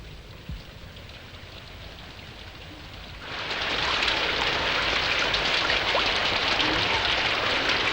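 Heavy rain starts abruptly partway through, jumping from a quiet background to a loud, dense, continuous downpour that holds steady to the end.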